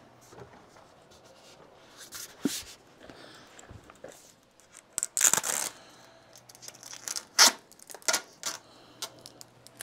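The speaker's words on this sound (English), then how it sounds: "let's go cut some coil stock" Metal roofing coil stock being cut for a vardo gypsy wagon roof, heard as a run of sharp crinkling snips and scraping bursts that grow louder and denser toward the end, with no talk.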